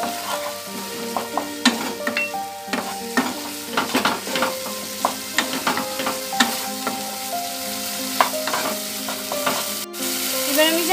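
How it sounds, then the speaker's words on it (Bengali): Koi fish stirred in frying spice and yogurt masala for tel koi: a steady oily sizzle under a string of sharp utensil clinks and scrapes against the pan at an irregular rhythm, close up, with no talking. "সেটা দিয়ে আবার কিছুক্ষণ নাড়িয়ে নিতে হবে যাতে দইটা ভালো করে মিশে যায়।"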